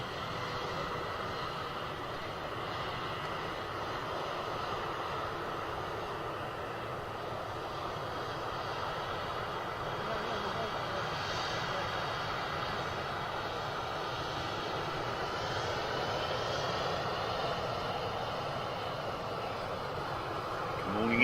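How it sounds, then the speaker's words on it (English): A TUI Boeing Dreamliner airliner just after touchdown gives off a steady, fairly faint broad engine roar with a low rumble, heard from a distance and unchanging for a long stretch. "Tui Dreamer just touched down"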